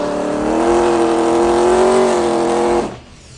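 A 600-horsepower race car engine revs hard and loud, holding a strained, steady pitch that climbs slightly before cutting off abruptly near the end.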